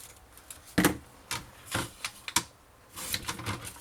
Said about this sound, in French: Alors je vais le couper ici.